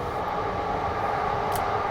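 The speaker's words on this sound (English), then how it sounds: "that's a train" A train rumbles past outside a 2021 Bentley Bentayga, a continuous low, steady roar heard from inside the car, with no talking.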